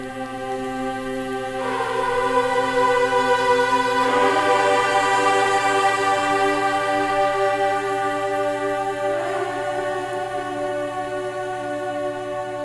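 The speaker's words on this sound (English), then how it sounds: "I reached for the Gaelic Voices" Choir voices from the Spitfire Labs Gaelic Voices library hold long, soft chords that shift gently in pitch, a smooth sustained vocal pad with a steady low drone beneath and no speech.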